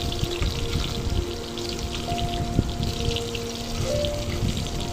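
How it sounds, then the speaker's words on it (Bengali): Fish frying in mustard oil in a wok, nearly done, with a steady moderate spattering crackle running throughout, one brief sharp click partway through, and soft background music underneath. "মাছ ভাজাটা আমার প্রায় হয়ে গেছে।"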